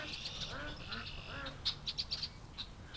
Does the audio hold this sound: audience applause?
no